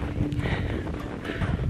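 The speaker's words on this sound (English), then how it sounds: "it's a little cold when the wind's blowing" Cold wind gusting outdoors in snowy winter Flagstaff, Arizona, a steady rough buffeting close on the microphone that lasts the whole moment, with faint crunching steps underneath.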